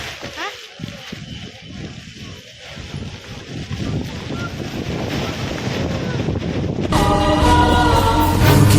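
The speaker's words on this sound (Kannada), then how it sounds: "ಫುಲ್ ಮೇಲೆ ಹೋಗೋಕ್ಕಾಗಲ್ಲ ಗೈಸ್, ಮಳೆ ಜೋರಾಗಿ ಬರ್ತಿದೆ." Heavy rain pours during an outdoor day trip, a loud, steady wash that buffets the wet microphone and swells further toward the end.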